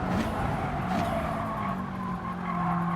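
A racing car brakes hard into a corner at Interlagos in a racing game, its tyres squealing and skidding loudly over the engine drone for a few seconds.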